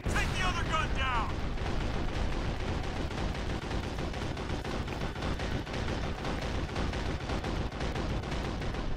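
A planted charge goes off in the video game Sniper Ghost Warrior 2, bringing a loud, dense roar of blast and rumble that runs unbroken through the whole stretch, with a brief voice at the very start.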